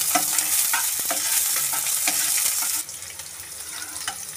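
Cumin seeds and onion hit hot oil in a heated kadhai, giving a loud, close crackling sizzle with stirring scrapes that drops to a quieter, steady fry partway through.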